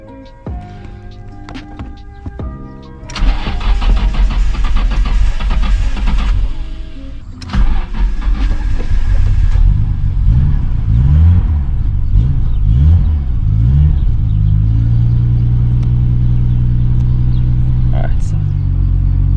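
A Nissan R32 GTR with a misfire cranks and starts, then a loud close idle settles into a low, uneven rumble, with a brief rev and a voice talking over it.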